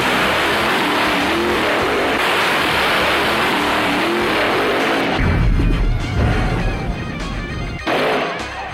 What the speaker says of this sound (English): Losing control of his funny car at 200 miles an hour, smashing into the wall and sliding down the track